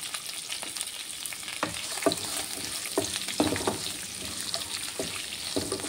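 Onions and curry leaves frying in a hot tempering of cumin, mustard seeds, chana dal and urad dal, a close continuous sizzle broken by repeated scraping strokes of a stirring spoon, with no speech.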